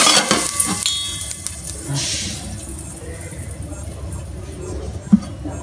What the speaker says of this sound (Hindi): उठाएंगे और अंदर तड़का लगा।